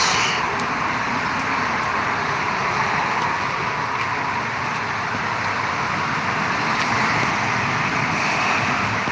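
Steady roadway noise of cars passing on a wet road on a rainy afternoon, a continuous hiss of tyres on water with no pauses, fairly loud and close.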